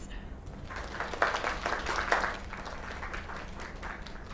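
Steady applause from a crowd in the video game Lake, dense clapping that swells briefly in the middle then holds at an even level over a constant background hiss.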